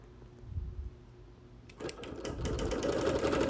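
A sewing machine quilting on wool starts up after a quiet pause and runs in a steady, rapid mechanical chatter that grows slightly louder and continues to the end.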